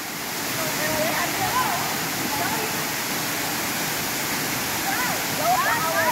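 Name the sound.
waterfall in Nosy Be, Madagascar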